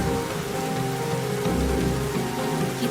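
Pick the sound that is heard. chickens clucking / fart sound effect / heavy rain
heavy rain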